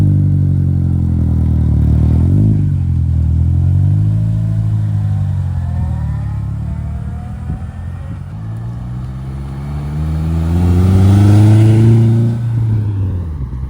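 A DIY Peugeot 206 WRC replica rolls along a rally-style road, its engine droning steadily and swelling louder near the end as it accelerates past, with no talking.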